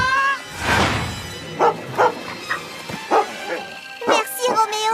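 A cartoon dog named Roméo lets out loud, close yappy barks and whimpering yips in a busy run, with music and talking running underneath.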